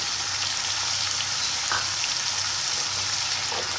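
Eggplant and tomato vegetables fry in a pan with a loud, dense, continuous sizzle, rain-like, and a few faint utensil scrapes from stirring, close up with no voices.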